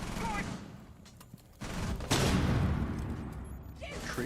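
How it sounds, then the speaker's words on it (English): Gunfire and explosions in a competitive esports video game match, with C4 and other explosives going off amid sustained bursts of shooting, loud and dense over several seconds, with a voice talking underneath. "C4 is being thrown, explosives going, bullets going, nobody's dying"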